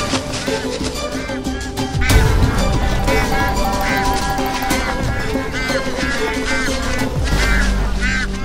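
Gaggle of geese at a wetland honking and quacking in repeated, overlapping calls, fairly close and loud over a steady background, with a louder burst about two seconds in.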